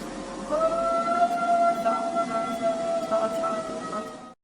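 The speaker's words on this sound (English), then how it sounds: "so I'm wondering if this was just a really old dog trying to howl" An old dog gives a long, thin, wavering howl outdoors at night. The cry holds steady for several seconds against faint background noise.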